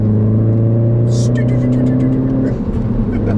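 A 2014 Mini Cooper S engine and exhaust accelerating, a loud steady drone heard from inside the car with rising tone and faint crackles, while someone talks over it.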